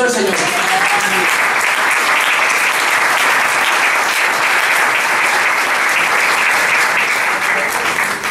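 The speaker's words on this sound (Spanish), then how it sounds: "Denle un fuerte aplauso al Señor." A church congregation claps loudly and continuously in praise, a dense, sustained wall of applause from many hands that holds evenly from start to finish, with a voice audible only briefly at the very beginning.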